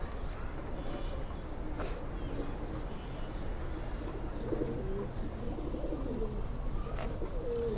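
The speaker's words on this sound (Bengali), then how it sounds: "এই যে কবুতরগুলো।" Pigeons coo faintly in a loft against a steady, noisy background, with a few soft calls rising now and then over several seconds.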